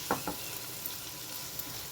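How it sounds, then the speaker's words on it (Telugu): Green chillies frying in a pan for a Telugu thotakura (amaranth leaf) curry, a soft, steady hiss of sizzling oil, faint and even, with a couple of light stirring taps near the start and no voices. "ఫ్రై అయ్యే వరకు కాసేపు వేయించుతూ ఉండాలి. చూడండి పచ్చిమిర్చి కూడా చక్కగా ఫ్రై అయిపోయినాయి."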